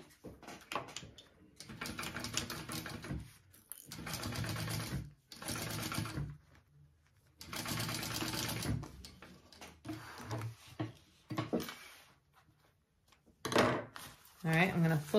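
A home sewing machine basts an exterior fabric panel to a zipper panel for a tote bag, running in several bursts of a few seconds each with short pauses between, close and fairly loud.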